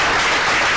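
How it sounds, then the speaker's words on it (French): Applause from a studio audience on a French-language talk show honouring a charity association, a dense steady wash of clapping filling the whole moment, loud and close with no gaps. "vous allez vous applaudir très fort pour le combat que vous menez"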